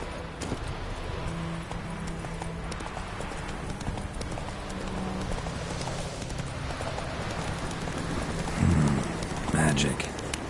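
Horse hooves galloping in The Witcher 3: Wild Hunt video game, a continuous rhythmic clip-clop under rain-like background noise, with a couple of louder thuds near the end.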